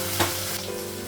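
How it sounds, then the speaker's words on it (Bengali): Ginger and cumin paste hits a hot pan with a brief burst of close sizzling that settles into a steady frying hiss, with no talk. "আদা বাটা দিই, জিরে বাটা দিই,"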